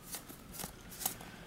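Magic: The Gathering cards from a booster battle pack being sorted and flicked through by hand, producing a few soft papery riffles and slides, close and quiet, with no voices.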